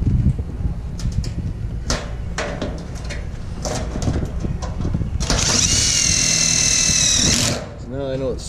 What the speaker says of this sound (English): I'm gonna add a couple more screws in between